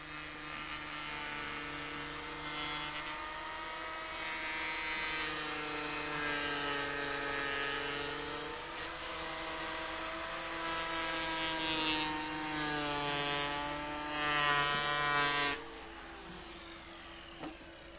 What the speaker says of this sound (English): The Gelplane is based on a standard AEG motor and Bosch drum